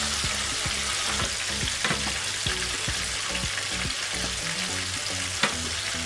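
Fish for a Thai-style fish fry crackles and sizzles in hot oil in a pan, with steady close-up spattering and small pops throughout.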